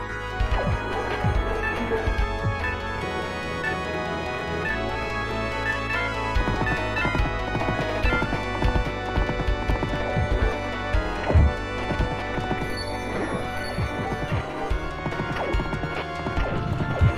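Steady clip-clop of horse hooves in the arcade game Knights of the Round runs beneath busy game music and effects, with occasional crashes and thwacks punctuating the rhythm.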